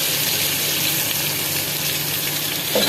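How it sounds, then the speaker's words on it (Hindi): Onions sautéing in a pan with whole cumin, black pepper and cinnamon, a steady close, loud frying sizzle that holds evenly throughout with no voices. "और अच्छे से थोड़ा सा बस सौटे करेंगे प्याज को गरम मसालों के साथ"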